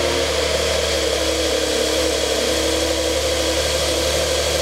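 A Porsche 992 Carrera idles steadily through its cold-start warm-up, giving off a loud, constant droning hum that sounds like a generator and holds without a break for the whole span.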